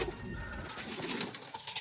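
Sialkoti pigeons of the Master Abdullah line cooing close by in a low, continuous murmur, with a faint rustle of other loft sounds around them.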